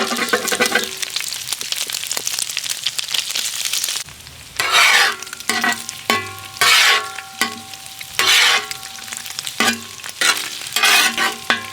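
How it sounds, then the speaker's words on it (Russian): Sheep tail fat sizzles and crackles in a hot pan as it renders, with bursts of louder frying as pieces are stirred and turned, close up and continuous. "Ну, сейчас он свое маслице отдаст. Красиво поджарится, и мы его уберем."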